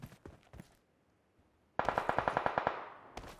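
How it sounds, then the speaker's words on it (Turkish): Gunfire in the shooter game PUBG Mobile: a few scattered shots, a pause, then a loud rapid burst of a dozen evenly spaced automatic rounds, followed by a fading tail and one more shot. "İlk defa bir silah sesi duydum uzun süre sonra."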